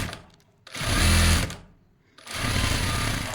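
A sewing machine stitches piping in two bursts of loud, close, rapid mechanical whirring and needle clatter, each rising and then easing off, with a short quiet gap between them.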